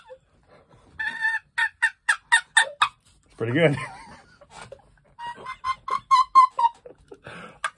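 A wooden box turkey call is worked by hand in quick runs of sharp, rhythmic yelps and clucks, close and loud, imitating a turkey, with a short burst of talking between the runs.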